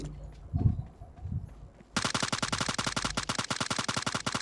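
Automatic gunfire in the mobile game PUBG Mobile Lite erupts after a quiet start of faint game sounds, a fast, steady stream of sharp shots that continues loudly to the end.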